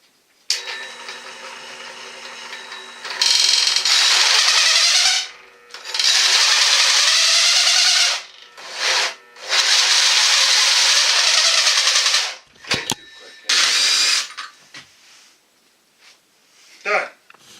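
A hand power drill drilling metal whines in long high-pitched bursts, starting and stopping repeatedly, loud and close, with brief pauses between runs.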